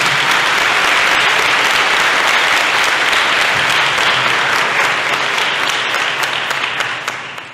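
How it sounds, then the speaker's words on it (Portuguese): Sustained loud applause from a large church congregation, steady dense clapping that continues throughout and begins to fade at the very end. "Vamos aplaudir a palavra de Deus."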